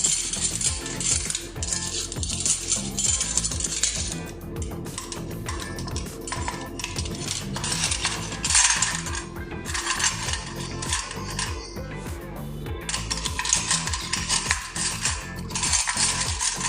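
Metal spoons clink and rattle against cups on a home kitchen counter, with a dense run of light metallic taps and jingles continuing throughout, fairly quiet and close.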